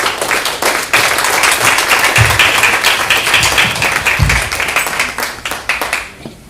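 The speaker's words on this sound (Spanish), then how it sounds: "Vamos a darle un aplauso al Señor" A church congregation at an Easter resurrection service claps together for about six seconds, a loud, fairly rhythmic clatter of many hands that thins out and stops at the end.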